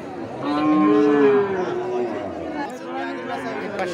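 Sahiwal cattle lowing at a busy livestock market, several long moos rising and falling close by, with chatter and talk from people in the background throughout.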